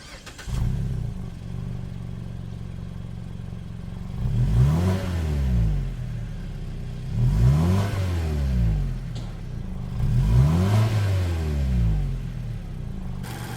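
A Mazda CX-5's 2-liter Skyactiv four-cylinder engine idles, then revs up and drops back three times in a row, each rise and fall clear and close, with no talk.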